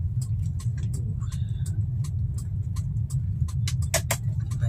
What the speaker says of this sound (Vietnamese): Cái xe tải này, cái xe Việt Nam Post thì chạy kinh quá.